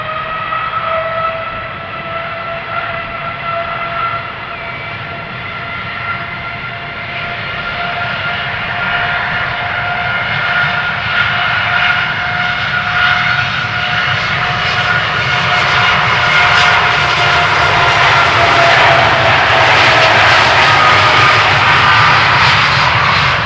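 An Airbus A380's jet engines spool up for takeoff at Amsterdam Schiphol, a loud, steady roar with rising whining tones that swell and intensify over the span.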